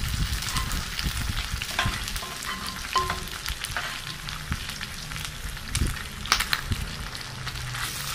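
Pork stew frying and sizzling in a pan while being stirred, with steady crackle and scraping spoon strokes throughout, close and moderately loud, no voices.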